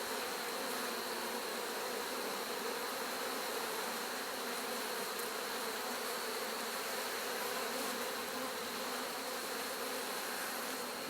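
A dense, continuous buzzing of many honeybees, including drones, inside a hive, steady and close, with no pauses.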